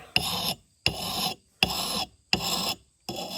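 An axe edge being sharpened by hand with a file, following a taper: four steady rasping strokes in an even rhythm, each about half a second long and separated by short pauses, close and fairly loud with no talk.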